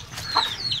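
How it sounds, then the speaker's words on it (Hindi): A hen clucks once in a farmyard setting, a short close vocal burst with faint bird chirps in the background and no talk. "ये होगी जी मुर्गी"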